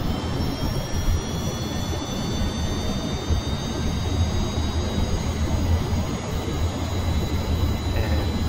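An aircraft engine in Kerbal Space Program roars steadily and loud during a takeoff roll down the runway, with a continuous rumble and faint whining tones that slowly rise.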